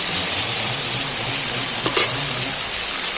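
Onions and tomatoes fry in hot oil, giving a bright, even sizzle close to the pan, with one brief clatter near the middle and no talking.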